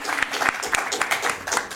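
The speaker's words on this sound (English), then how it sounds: "One more time, round of applause." An audience gives a round of applause after a presentation, a dense spread of many hands clapping at close to moderate distance, with some voices mixed in.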